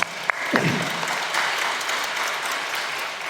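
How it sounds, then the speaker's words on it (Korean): A church congregation claps together during a Sunday sermon, a dense, fairly close burst of applause that holds steady for a few seconds. "우리 박수 한번 치겠습니다."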